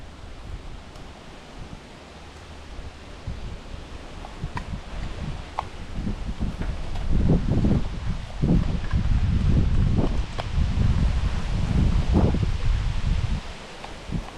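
Strong, gusty wind blows across Lake Marion during fall panfishing, a broad rushing roar that swells louder midway and stays heavy in irregular buffeting gusts.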